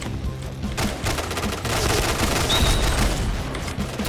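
An RPD heavy machine gun in the shooter game Point Blank fires in a continuous loud burst of rapid automatic shots with booming low end, sustained without pause and with no voices.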